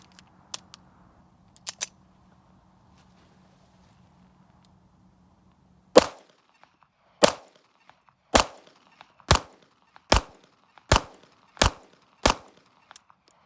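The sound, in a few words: gunshots from a Beretta 30X pistol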